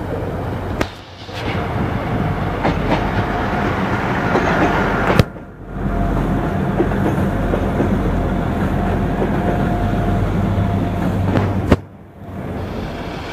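A train sits or rolls at a platform in Chester station, a loud continuous rumble with low hum, broken by a few sharp clunks and brief dips.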